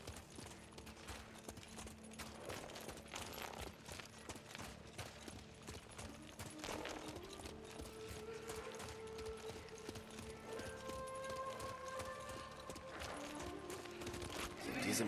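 Steady clip-clop of galloping horse hooves in Ghost of Tsushima runs throughout, with clanking and background game noise layered over it at moderate volume.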